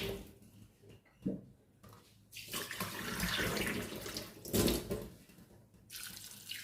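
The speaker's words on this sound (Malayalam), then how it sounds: "ഇതിലേക്ക് ലേശം വെള്ളം ഒഴിച്ച് ഇടണം." Water is poured onto scooped fruit pulp, making a splashing, gurgling run that swells in several bursts of a few seconds each, close and fairly loud, with no talking.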